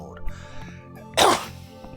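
A single sharp cough into a microphone, loud and close, after a stretch of quiet background.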